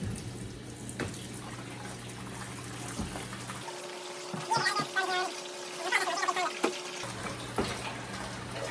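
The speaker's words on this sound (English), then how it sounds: "rinse this in a bucket of water, pure water, for like until the water runs clean" Deer hide being rinsed in a bucket of pure water, with splashing, sloshing and trickling that swell and fade unevenly under a faint hum, fairly quiet and close.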